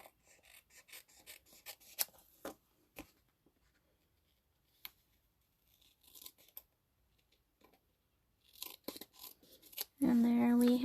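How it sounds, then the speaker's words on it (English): Snips trim around a paper envelope in a card-making craft session, a run of soft, close snipping and crinkling cuts with quiet gaps between them, ending in a brief louder noise. "We're going to take our snips and just trim around."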